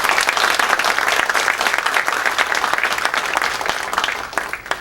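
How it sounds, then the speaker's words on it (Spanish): Sustained, loud applause from a seminar audience at a hydropower conference for Latin America, dense clapping filling the whole stretch with no voices over it. "a quien pido un fuerte aplauso, por favor."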